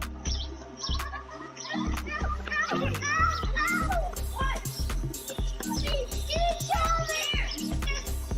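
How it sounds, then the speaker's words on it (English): Children play and shout outdoors on a residential street on a Saturday afternoon, their overlapping voices and squeals near and steady throughout, with occasional bird chirps in the background. "Saturday afternoon on Candlewood Lane, you'll see kids playing"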